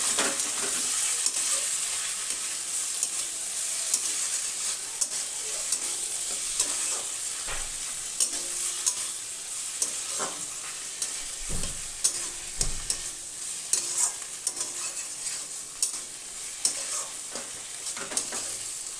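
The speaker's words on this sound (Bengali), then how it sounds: "এইভাবে আরও অল্প কিছুক্ষণ নেড়ে নেব" Ash gourd and shrimp sizzle in a pan while a spatula stirs them. Scraping clicks and knocks sit over a continuous frying hiss, growing busier toward the end, with no talk.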